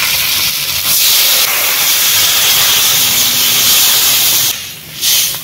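Ground ginger, cumin and mustard paste hitting a hot pan sends up a loud, continuous hiss that briefly dips near the end before rising again.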